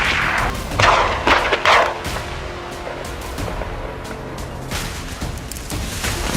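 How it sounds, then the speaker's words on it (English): Several heavy gunshots from wild boar hunting in Turkey boom and crack in irregular succession, each trailing into a rolling echo across the landscape, loud and fairly close with no talking. "as the gunfire echoed relentlessly across the landscape"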